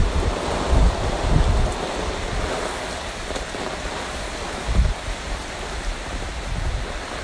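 Heavy rain falling outdoors, a dense steady hiss across the whole clip with a few low thumps and gusts, close and fairly loud with no voices.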